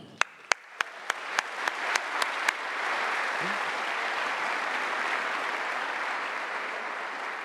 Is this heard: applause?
yes